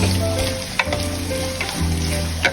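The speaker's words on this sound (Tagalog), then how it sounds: "inigisa na po natin yung minsa chicken" Minced chicken sizzles steadily as it sautés in a pan, with occasional soft stirring knocks over a loud, continuous frying hiss and no talking.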